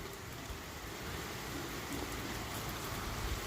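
Rain falls in Bathinda as a steady, even hiss that stays at the same soft level throughout, with no voices.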